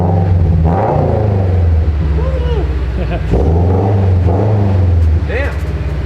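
A 2022 Subaru BRZ with aftermarket headers idles with a deep, steady boxer rumble and a few light throttle blips rising over it, while people talk nearby throughout.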